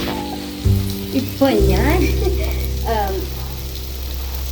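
Maggi noodles sizzling in a pan as masala goes in, a steady close frying hiss that swells and continues over low flame, with a brief spoken word near the start.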